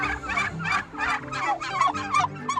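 A flock of free-ranging turkeys on a turkey farm gobbles in repeated loud, close bursts, one call overlapping the next with no talking.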